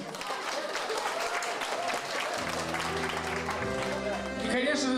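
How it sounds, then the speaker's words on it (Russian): Wedding guests applaud the young couple, a steady crowd clapping joined midway by a sustained tonal musical backing that continues underneath. "Поддержите молодежь аплодисментами"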